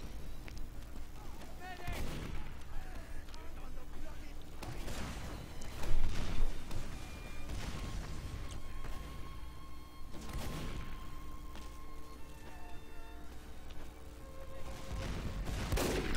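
Gunfire in a video game shooter, with repeated sharp shots and booming blasts over dense ongoing game noise, under a voice commenting at moments.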